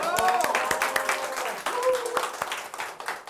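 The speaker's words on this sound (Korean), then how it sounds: "박수 한번 주세요" A church congregation claps during a Sunday testimony service, with sharp, distinct hand claps over a bed of applause while voices and tonal sounds rise briefly above it.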